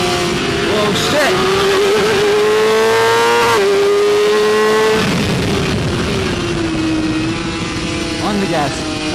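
Onboard a BMW S1000RR superbike racing at a WERA track event, the engine screams close and loud, its pitch climbing and dropping through gear changes over heavy wind roar.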